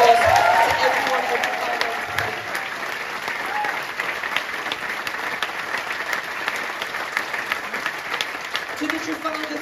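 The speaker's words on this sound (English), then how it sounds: "So big round of applause to everyone." A theatre audience applauds at a West End curtain call for the final show of Jersey Boys, a dense, sustained wash of clapping from a large crowd throughout.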